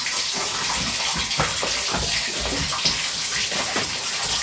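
Water gushing steadily and loudly throughout, a continuous broadband rush like a strong flow from a pipe or tap in Pokhara, with no speech over it.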